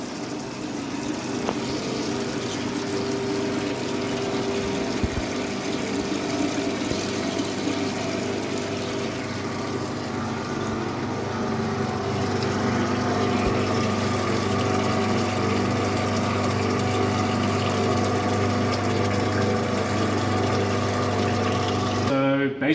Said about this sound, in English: This is hot oil and it needs to circulate through.